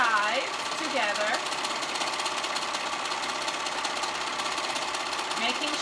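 Serger stitching two sides of fabric together for a sweatshirt, a steady rapid mechanical whir running throughout, with a voice talking over it at the start and end.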